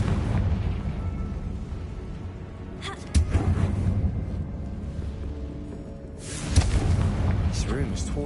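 A Confringo spell blast in Hogwarts Legacy on PS5 bursts with a sudden boom, then a second rumbling explosion follows a few seconds later over steady game ambience, with a voice talking in between.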